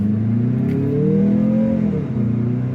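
A Mazda CX-50 in terracotta red, sharing the CX-5's powertrain, pulls away under acceleration. The engine tone climbs smoothly and loudly from the cabin, eases briefly near the end and then settles, with no talking.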